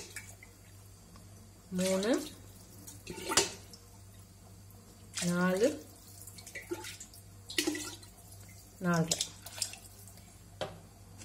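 Glasses of water pour into a pressure cooker for mutton biryani in several separate splashing bursts spaced a few seconds apart, while a voice counts quietly in between.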